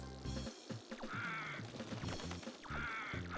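Two short bursts of cartoonish quacking from game birds in the PS1 game RC Helicopter, each a quick squawk, over a looping musical backing.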